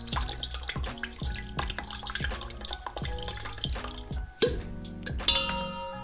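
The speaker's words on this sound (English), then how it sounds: "then you pour some cold water over the area" Cold water pours over the scored cut line of a wine bottle, giving a steady trickling stream with a splashy, dripping texture that shifts and sputters near its end.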